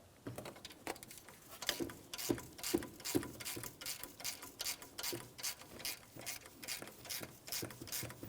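A ratchet works loose an alternator mounting bolt on a 2007-2014 GMC Sierra 2500 HD with the 6.0L V8, giving close, steady bursts of rapid pawl clicking with short pauses between strokes.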